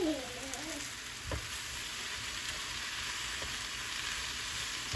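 Young coconut (buko) being stir-fried in a pan, a steady close sizzle and hiss of frying with a brief scrape of stirring early on, no talking.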